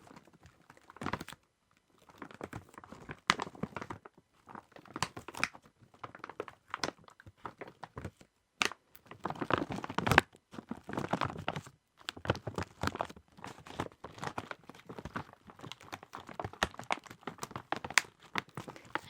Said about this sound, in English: I'm going to try and do some gentle crinkling